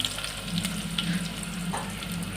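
Ingredients frying in oil in a pan for veg biryani: a steady close crackling sizzle with faint occasional spoon taps, no voices.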